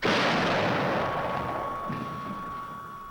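A field artillery battery fires a single loud, close blast that booms and rolls off into a long fading rumble, with no talk.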